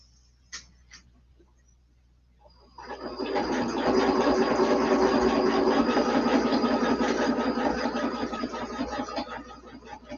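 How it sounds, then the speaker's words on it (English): A sewing machine stitches a quilt block. A couple of faint clicks come first, then the motor starts up and runs in a steady, close, rapid whirring hum until the end. "we are going to stitch just a couple of stitches"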